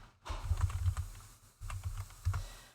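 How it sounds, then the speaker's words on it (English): Keys tapped on a keyboard in a few loose clusters, with soft clicks over a low thumping undertone, heard close and fairly quiet. "When I can't see some of my buttons, it's a bit weird to try and find them to type with."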